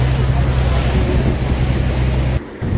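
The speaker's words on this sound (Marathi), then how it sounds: "उभ्या राहून सुंदरसा वारा येत होता" Steady wind rushes across a boat at sea on the crossing from Mumbai to Alibag, loud and continuous over a low engine drone and wash of waves, cutting out abruptly near the end.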